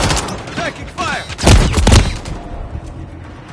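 Gunfire in Call of Duty: Modern Warfare III, a busy mix of shots and impacts with a louder cluster in the middle, under radio-style voice callouts.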